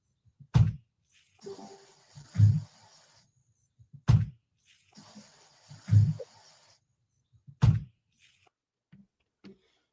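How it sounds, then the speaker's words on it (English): Trunk lid of a white 2016 Hyundai Elantra closing, heard as three sharp, fairly loud thumps spaced about two seconds apart, with quieter hissing and rustling sounds between them and no talking. "that's the sound of a car trunk closing"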